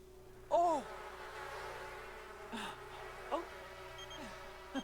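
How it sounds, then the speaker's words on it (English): Disturbed bees in The Sims 4 give a few sharp, wavering buzzing swells over a steady background hum, one loud near burst followed by fainter ones. "Disturb. Just disturb the bees."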